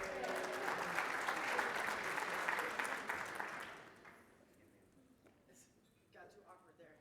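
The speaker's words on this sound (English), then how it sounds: "give her a round of applause, guys" An audience at a real estate broker and realtor summit claps for a volunteer, dense and fairly close for about four seconds before fading, followed by quiet with a few faint voices.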